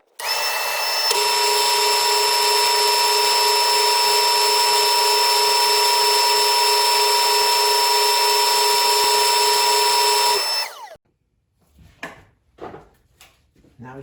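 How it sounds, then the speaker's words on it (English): A drum sander attachment on a power tool spins up and whines steadily for about ten seconds, shaping a rustic wooden cabinet knob, then winds down and stops, followed by a few quiet knocks and handling sounds. "what I have is a little drum sand attachment here, and I'm going to use that to kind of round this over"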